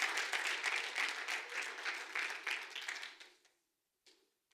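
Church congregation applauding during a Spanish-language sermon, a dense clatter of many hands lasting about three seconds before fading out, followed by a brief faint trailing clap.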